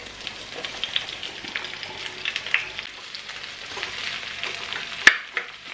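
Onion frying in coconut oil in a pan with ginger, a steady sizzle and crackle with scattered pops and one sharp clink near the end, close and moderately loud.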